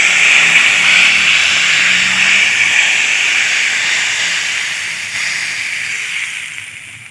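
Hot oil with red chili poured over chicken nihari, setting off a loud, dense, hissing sizzle that starts at full strength and slowly fades over several seconds, close by, with no voices.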